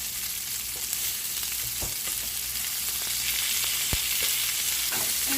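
Chicken frying in a pan on high heat with asparagus and sweet potato, a steady close hissing sizzle with a few sharp pops and spatters, no talking.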